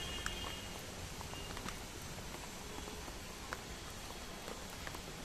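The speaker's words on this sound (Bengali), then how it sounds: "এই যে দেখো কি পরিমাণে বৃষ্টি" Heavy rain falls steadily in a broad, even hiss and patter, with scattered louder drops striking nearby surfaces throughout.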